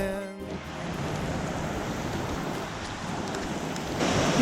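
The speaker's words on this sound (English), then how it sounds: "Still raining." Steady rain falls during a bike tour in Colombia on the road known as the Trampolin de la Muerte, a continuous close hiss of drops that stays even throughout and swells slightly louder at the end.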